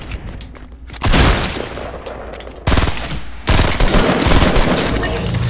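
Bursts of rapid gunfire in Fortnite crack out loud and close, three separate volleys separated by brief lulls, with the last one running on steadily.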